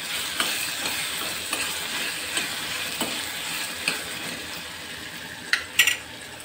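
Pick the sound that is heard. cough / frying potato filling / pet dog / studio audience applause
frying potato filling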